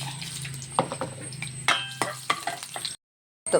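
Garlic, mustard seeds and urad dal frying in hot oil for a soybean curry, a close, busy sizzle with sharp crackling pops and stirring scrapes, cutting off abruptly near the end before briefly resuming.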